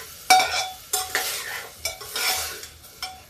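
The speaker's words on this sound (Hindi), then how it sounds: "अभी मसाला मेरा भून रहा है" Masala spices roasting in a pan for a French beans and peas sabzi, a spoon scraping and stirring in repeated strokes over a soft sizzle, close up with no talk.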